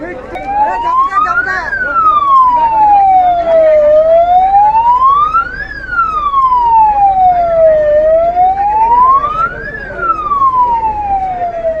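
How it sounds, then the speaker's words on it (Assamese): A loud ambulance siren wails up and down in slow repeating cycles, close by on the NH 15 main road, with traffic rumbling underneath. "এখন এম্বুলেঞ্চ গৈ আছে"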